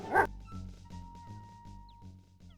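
A dog barks in the King's Quest V computer game, one sharp loud bark at the start followed by a run of softer, repeated yips and whimpers at an even pace.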